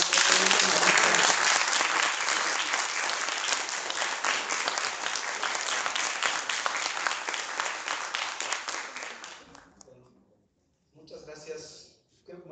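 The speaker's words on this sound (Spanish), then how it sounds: "le damos la palabra un caluroso aplauso de bienvenida" Warm welcoming applause from a seminar audience on alternative education, a dense sustained round of clapping that fades out, followed by a short pause and a brief return of clapping or movement.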